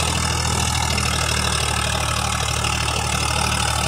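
A Swaraj 744 FE tractor runs a seven-foot Fieldking rotavator in a field, a steady loud engine drone with a constant mechanical churn.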